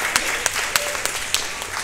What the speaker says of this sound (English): You can give yourself a round of applause for that.